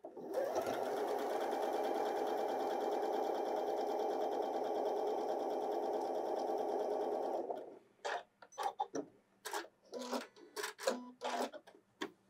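A Janome sewing machine runs continuously for several seconds while sewing a dense satin stitch, a steady humming whir, then stops and gives way to scattered clicks and handling sounds.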